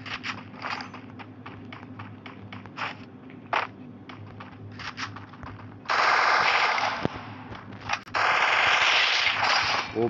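Mobile shooter game gunfire with headshot kills: bursts of rapid automatic fire and scattered single shots, then two long, loud continuous volleys near the end, with a steady low game hum underneath.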